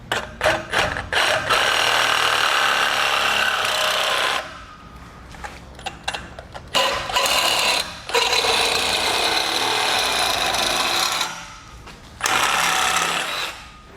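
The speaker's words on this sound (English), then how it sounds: "We're just going to use a reciprocating blade to do so." A reciprocating saw trims the bumper of a 2019 Mini Cooper with a loud, close, buzzing rasp. It runs in long sustained bursts broken by short starts and pauses.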